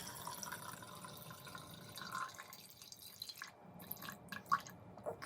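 Vinegar is poured into a jar over an egg, a faint, close trickle and drip of liquid that slows to a few scattered drips and small splashes near the end.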